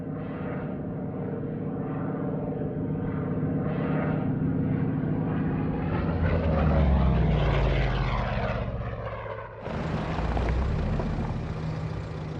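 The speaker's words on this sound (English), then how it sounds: "These are early P-47s in service in England." Early P-47 Thunderbolt fighters in service in England drone with propeller engine noise, a steady rumble that swells louder midway and then shifts abruptly to a different, brighter engine roar near the end.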